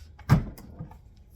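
The top of a collapsible go bar deck is popped off, giving a single short knock or thump followed by a couple of faint, light clicks, close by in a quiet room.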